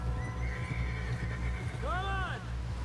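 Horse in a Red Dead Redemption game scene whinnies loudly while hooves clop steadily, with speech faintly in the background.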